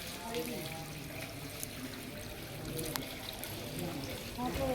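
Water runs steadily at a temple foot-washing area at Audumbar, a soft continuous trickle and splash heard under a person talking.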